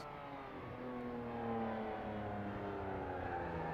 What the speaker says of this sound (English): The sweetest music, still that engine at full throttle